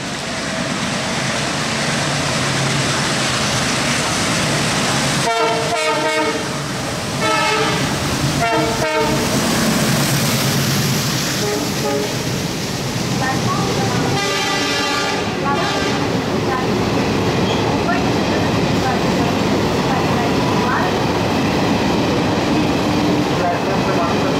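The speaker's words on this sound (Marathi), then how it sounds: "12 डिब्बों की तेज लोकल थोड़े ही समय में प्लेटफॉर्म क्रमांक 4 पर आ रही है।" A 12-car fast local train pulls into platform 4 at a Mumbai-line station with loud rumbling and clatter, sounding its horn in two bursts while announcements play in the background.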